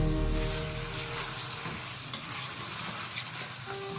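Spices frying and being stirred in a pan for turnip meat curry (shaljam gosht), a steady close sizzle with scraping stir strokes and a few sharper clicks from the utensil, no talk.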